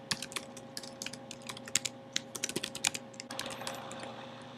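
A name typed on a computer keyboard: quick, close bursts of light key clicks in uneven runs, with a faint steady hum underneath.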